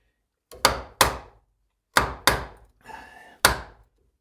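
A chisel chopping a blind mortise in wood, sharp percussive thunks struck one at a time in an uneven rhythm, close and loud, with a brief scraping rasp between blows.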